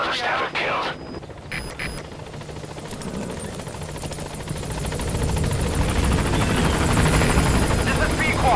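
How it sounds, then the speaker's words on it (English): The extraction helicopter arriving in Metal Gear Solid V: The Phantom Pain, its rotor roar swelling from distant to loud and close after a few sharp clicks, with voices heard over it. "I'll send the extraction chopper."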